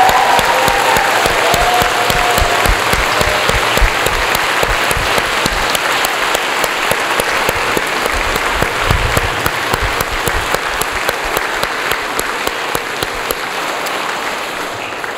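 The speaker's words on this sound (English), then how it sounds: "rousing round of applause for those speakers and those musicians." A large crowd at a senior-faculty commencement convocation gives loud, sustained applause for speakers and musicians, dense clapping with sharp individual claps standing out throughout, close and filling the room.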